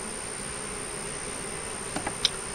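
A steady, moderate hum of bees buzzing around an open hive box holding stores and brood. A few brief knocks come near the end.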